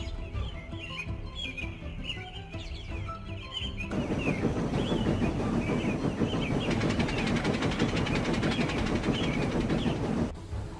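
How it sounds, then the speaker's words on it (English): A crewless runaway small goods train rumbles along the main line, swelling louder and more insistent partway through, with rhythmic clatter and a faint high squeal over a tense backdrop. "A small goods train seen without a crew barreling on the main line heading towards here"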